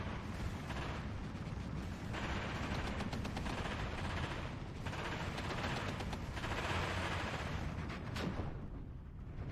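Dense, continuous battle gunfire and artillery in the WWII strategy game Steel Division 2 as a Panzer III L joins the fight, overlapping shots and blasts rolling on loudly without a break.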